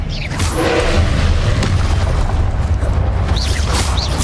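Confringo, the explosive spell from Hogwarts Legacy, bursts in a loud, continuous boom with crackling debris and bright whistling flourishes near the end.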